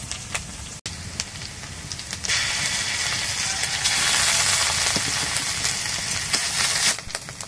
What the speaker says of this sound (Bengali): তারপরে দিয়ে দেব আদা রসুন বাটা